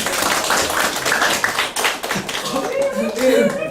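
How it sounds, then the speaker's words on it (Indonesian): Applause from an audience greeting a candidate at an Indonesian campaign event, a burst of clapping with voices talking over it. "Ya, tepuk tangan teman-teman"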